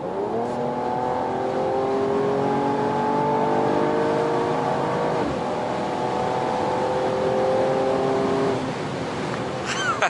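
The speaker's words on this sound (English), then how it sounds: "What a fantastic engine, what a smooth engine." A 2019 Mercedes E53 AMG 4Matic+ engine pulls hard under acceleration, a smooth, steady rising drone heard from inside the car, with pitch climbing and dipping through gear changes and no talk over it.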